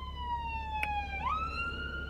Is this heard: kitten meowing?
no